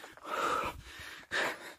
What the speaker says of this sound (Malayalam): കിതപ്പ് ഉണ്ടാവും കേട്ടോ, എല്ലാവരും ഒന്ന് ക്ഷമിക്കുക